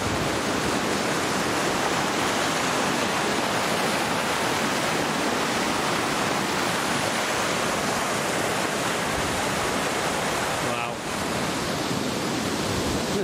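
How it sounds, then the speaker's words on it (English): Loud, continuous rushing water roars steadily throughout, a dense churning torrent close by with no breaks. "Definitely hear the sound of water."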